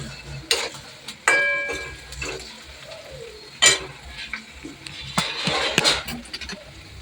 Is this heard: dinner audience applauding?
no